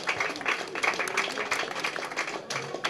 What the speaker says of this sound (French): Donc voilà, Chloé, vous pouvez l'applaudir